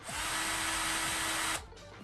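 A power drill spins a mini saw blade attachment in one sustained, loud, high whine lasting about a second and a half, then cuts off abruptly into quieter ambience.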